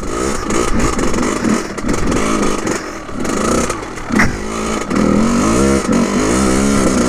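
A Kawasaki KX100 dirt bike pulls away, its small two-stroke engine buzzing loudly and continuously up close with throttle swells and revving, alongside some clatter.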